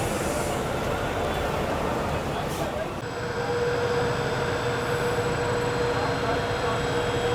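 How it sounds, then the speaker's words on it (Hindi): A Waraich Express bus pulls into the Karachi Bus Terminal with a steady, loud engine rumble and a faint whine, set against constant terminal noise and with no clear pause. "ये वड़ाइच एक्सप्रेस की एक बस आ रही है"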